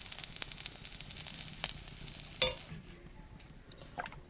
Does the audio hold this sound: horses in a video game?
no